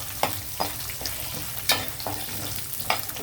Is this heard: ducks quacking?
no